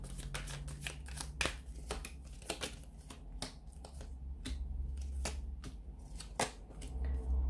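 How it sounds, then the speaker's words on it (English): A deck of cards is shuffled with a series of crisp, irregular snaps and riffles over a low electrical hum, close to the microphone. "So we'll give the cards a shuffle."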